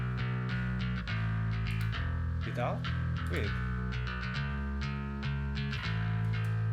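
A bass guitar DI track blended with a drive effect plays sustained low notes with a gritty, slightly distorted edge in a steady groove, with a couple of brief spoken words over it.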